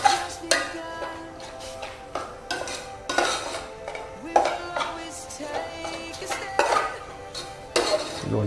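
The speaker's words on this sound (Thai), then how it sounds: "ลงไปรวนลงไปรวน รวนให้หมูมันสุกนะครับ" Minced pork stir-fried in a pan for Thai larb, with repeated scraping and clinking of a utensil against the pan in an uneven rhythm over a faint sizzle, close and moderately loud, with no talk.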